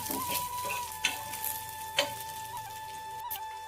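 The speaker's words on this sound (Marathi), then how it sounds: "लसूण मिरची भाजले." Garlic and green chillies frying in a pan with mustard seeds and cumin, a quiet soft sizzle broken by a few sharp clicks of a utensil stirring against the pan.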